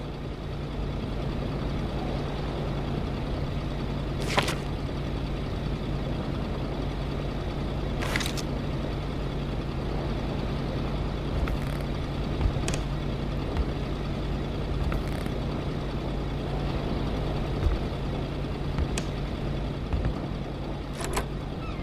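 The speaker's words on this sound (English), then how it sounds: "God, that truck's loud." A video-game truck engine rumbles steadily and loudly throughout, a low continuous drone with a few sharp clicks and knocks over it.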